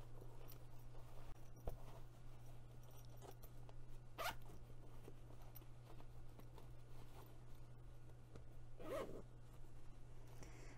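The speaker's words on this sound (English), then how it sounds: "Let's go ahead and unzip all of the zippers." Zippers on a sewn crossbody bag being unzipped, with a couple of brief zipping bursts over a steady low hum in a quiet room.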